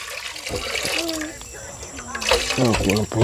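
Water is poured into a pot of papaya soup being prepared in a home kitchen, a splashing trickle heard under close conversational talk.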